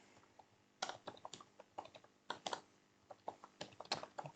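Someone types on a computer keyboard during a hacking room walkthrough, with quick irregular bursts of clicking keystrokes, close and fairly quiet, with no voices.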